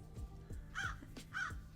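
A crow caw sound effect plays as two rasping calls about half a second apart, over faint low thumps and quiet background, with no talk.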